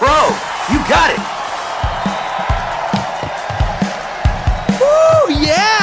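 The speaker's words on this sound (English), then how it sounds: "And the crowd goes wild!" Crowd cheering in the rhythm action video game Hi-Fi Rush: a steady roar of a crowd runs throughout, under punchy beat thumps and excited voices, with a rising swell near the end.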